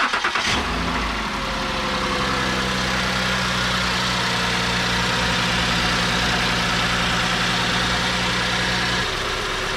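A 2010 Ford Edge engine, just back together after a valve cover gasket replacement, cranks briefly and catches, then settles into a loud, steady idle that drones evenly for several seconds before dropping off at the end.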